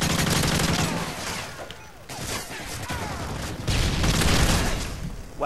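Heavy gunfire in a video game, a dense, continuous barrage of overlapping shots and rattling bursts, loud throughout with brief dips in intensity.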